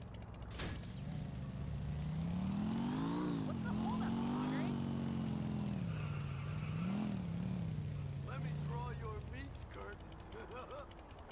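A motorcycle rides through the streets of Liberty City in GTA IV, its engine droning steadily with pitch swells as it accelerates and eases off, accompanied by creaks and other game sounds.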